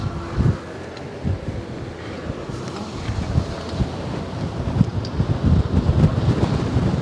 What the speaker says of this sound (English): Wow, that's a lot of wind.